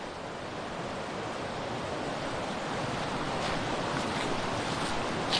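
Steady rushing of the flowing Dumacaa River, a continuous broad wash of sound that swells slightly louder toward the end, with no voices.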